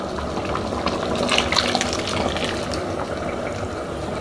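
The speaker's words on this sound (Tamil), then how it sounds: "தேங்காய் சாந்து கடைசியாக ஊற்றிட்டோம்" Coconut paste pours into a pot of boiling spicy mutton gravy, making a steady, fairly loud liquid rush and bubbling that carries on without a break.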